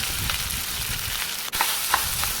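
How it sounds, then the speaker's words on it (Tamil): Cooked rice is tossed in a hot pan with cashews, giving an even, continuous sizzle with soft stirring and scraping sounds close by. "இப்போ வடித்த சாதம் இருந்துச்சுன்னா அதை எடுத்து பேனுக்கு போட்டுக்கலாம் ஒரு பிளேட் சாதம் போட்டுக்கோங்க"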